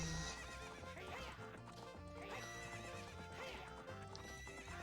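A horse gallops in a race in The Legend of Zelda: Ocarina of Time, with rhythmic clip-clopping hooves and whinnies over game music at a low level.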